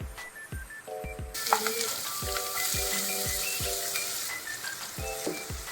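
Onion frying in hot oil in a pan, making a bright continuous sizzle that swells after a moment, with a few faint clinks and background sounds beneath it, no speech.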